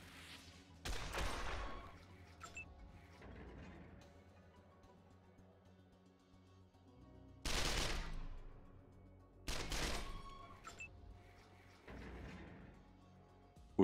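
Gunfire bursts from the post-apocalyptic RPG Wasteland 2 Director's Cut, loud broadband volleys and shorter shots scattered over about fourteen seconds, with quieter game ambience and faint effects between them.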